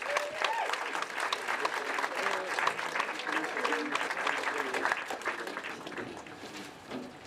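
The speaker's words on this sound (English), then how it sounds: "Big round of applause." Sustained audience applause fills an awards ceremony for a campaigner of the year, dense clapping from a crowd that holds steady and then thins slightly toward the end.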